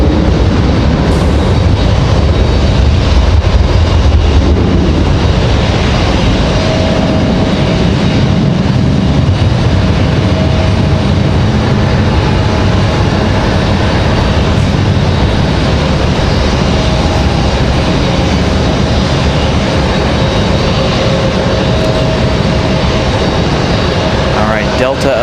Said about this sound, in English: JetBlue heads back to JFK.